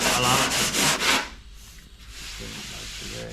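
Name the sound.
sanding car bodywork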